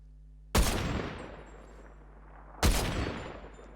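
Gunfire from a Wookiee-skinned gun in the Fortnite video game: two loud, close booming shots about two seconds apart, each trailing off in a long rumbling decay, with no talking.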